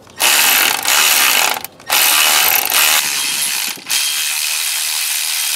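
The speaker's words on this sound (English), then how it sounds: "Now we'll tighten it down with a ratchet." A hand ratchet clicks in quick, loud bursts while tightening a bolt on a car engine during a twin-turbo install, with short pauses between strokes.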